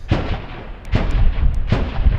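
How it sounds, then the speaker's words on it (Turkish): Street fighting in Nusaybin brings three heavy, booming blasts of gunfire and explosions at regular intervals, each sharp onset trailing into a rumbling echo between the shots. "Nusaybin'de silah sesleri, patlama sesleri bir an olsun durmuyor."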